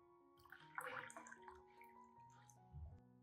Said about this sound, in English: Finally, add 500 milliliters of boiling water.